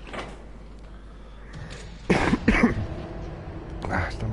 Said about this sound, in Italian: stamattina proprio non smetto di tossire, c'ho il solletico in gola